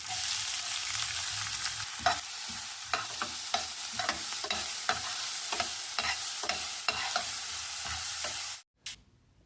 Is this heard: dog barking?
no